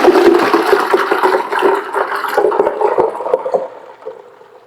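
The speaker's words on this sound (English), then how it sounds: "I'm going to dump this water out so I can use this sink right here." Water from a turkey brine poured out and draining into a kitchen sink, a loud rushing gurgle that tapers off over several seconds, with no talking.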